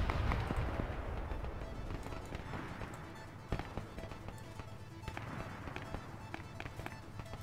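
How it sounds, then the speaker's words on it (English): Distant, sharp cracks of Cyrus rifle fire in Arma 3, scattered irregular reports among a rumbling battlefield background, fairly faint overall. "I hear him shooting his Cyrus."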